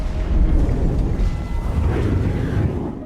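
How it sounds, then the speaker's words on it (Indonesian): A bomb triggered by a door opening explodes inside a house in a horror film, a dense, roaring low rumble sustained throughout without any talk. "Saat membuka pintu, bom terpicu kemudian meledak."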